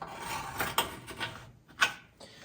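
Old floor panel being cut out of a 1971 Nova, heard as close scraping and rasping metal strokes in uneven bursts with brief sharp clanks, and no talking.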